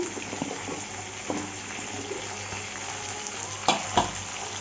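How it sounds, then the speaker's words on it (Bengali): Potato, carrot, pointed gourd and teasel gourd frying together in a pan for Bengali labra curry, with a steady close sizzle and a couple of sharp stirring knocks near the end. "একটু ভালো করে ভেজে নেব"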